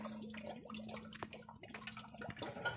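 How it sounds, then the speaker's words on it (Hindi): Water gushes and trickles out of heavy, rotted, waterlogged objects in a village, a close, continuous splashing and dripping stream with irregular spurts. "काफ़ी पानी निकल रहा है इनके अंदर से"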